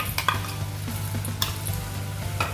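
Chicken with onion, ginger and garlic paste sizzles in a pan while a utensil stirs it, giving a few sharp scrapes and clinks over a soft, constant frying hiss.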